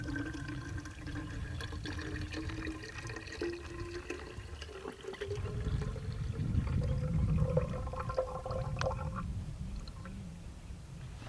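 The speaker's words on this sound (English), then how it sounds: "I'll just top off the thermos." Water poured from a bottle into a thermos outdoors at a dam, a continuous gurgling trickle whose pitch rises as the thermos fills, close and fairly quiet, with no talk.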